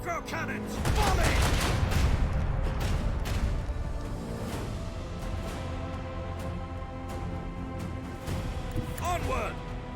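A broadside of macro cannons from a warship in Warhammer 40,000: Rogue Trader, heard as a dense, rumbling barrage of overlapping booms. The firing swells loudly early on, then rolls on steadily with scattered sharp reports.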